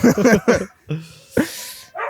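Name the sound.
dog barking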